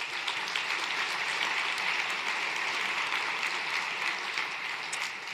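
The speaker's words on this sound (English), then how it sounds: "Let's take a moment to give a round of applause for our new partners." Steady, rather distant applause fills a summit plenary hall, an even wash of many hands clapping at moderate volume without a break.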